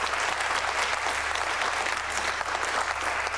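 Steady applause from a crowd at a political debate event in Grimsby, dense and continuous without a break, with a constant low hum running underneath.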